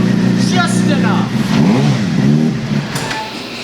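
A motorcycle engine on a weak, barely charged battery cranks into life in a workshop and revs in a couple of rising and falling swells, close and loud, with a voice talking over it.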